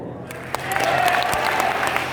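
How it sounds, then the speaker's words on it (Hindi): Audience applause at a motivational speech event, a dense round of clapping that rises quickly after a brief pause and holds strong and close to the end. "आप क्यों ताली बजा रहे हैं?"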